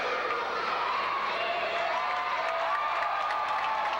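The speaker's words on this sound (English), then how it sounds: "the crowd's definitely roaring their approval" A wrestling crowd at an independent show roars and applauds in a steady, broad wash of cheering that holds from start to end, heard from within the arena.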